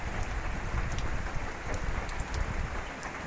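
Steady rain pours down in a continuous broadband hiss of drops striking surfaces. It holds a constant level throughout, with no voices.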